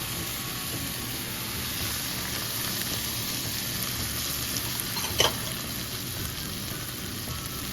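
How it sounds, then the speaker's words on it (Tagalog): Chicken broth poured into a hot pan for a creamy chicken mushroom dish, giving a steady, even sizzle and hiss throughout with one brief sharp splash near the end; no talking. "Tapos ibubuhos natin yung ating chicken broth."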